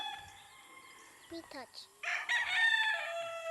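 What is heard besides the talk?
gamecock stag, Kanawayon crossed with Popeye Gray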